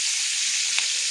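Tomato and tamarind masala frying in a pan, giving a steady, close hiss of sizzling with a faint soft scrape near the end.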